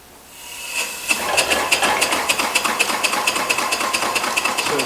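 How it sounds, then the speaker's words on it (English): A small steam engine starts up, its piston driving a lever, wheel and belt. Hissing builds into a quick, even chuffing and clicking rhythm that carries on at close range. "So the piston driving the little lever, turning the wheel, and driving the belt."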